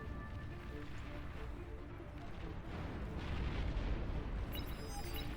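Booming long-range cannon fire from Beyond All Reason rumbles continuously, with heavy blasts and explosions swelling louder toward the middle and fading near the end.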